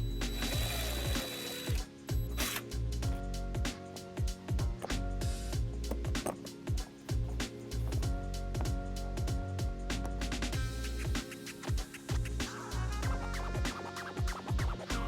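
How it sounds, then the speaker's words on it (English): Screws being driven with a power tool to mount a wiring bracket on a 2007 Hyundai Tucson during trailer harness installation; repeated whirring bursts with ratcheting clicks, close and fairly loud, with no talk. "So we're gonna mount our bracket right here using these screws."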